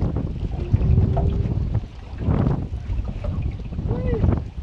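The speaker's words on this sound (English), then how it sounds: "Oh, look at that wind." Wind gusting over a lake, heard from a fishing boat on open water: a steady low rushing roar with rising and falling gusts and buffeting against the microphone, with faint voices in the background.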